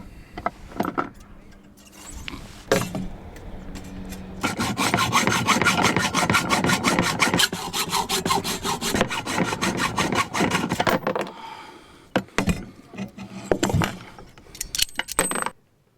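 An old, degrading anchor rope is sawn through with steady back-and-forth strokes, loud and close, followed by a few scattered knocks and handling noises as the cut finishes.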